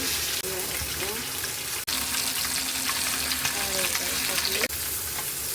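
Pieces of catla fish fry in oil with a continuous crackling sizzle, broken by a few sharp clicks as pieces are moved or lifted out, under faint background noise.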